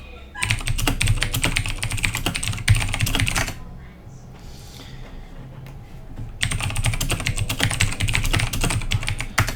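Rapid clatter of typing on a computer keyboard during a clan war match, loud dense bursts of keystrokes with a short lull in the middle before fast typing resumes.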